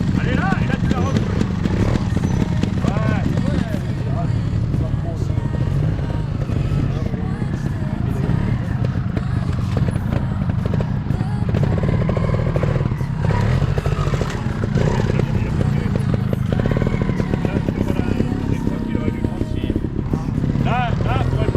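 A motorcycle rides through a practice course at an advanced riding training session, its engine running steadily throughout with a continuous low rumble while people talk over it.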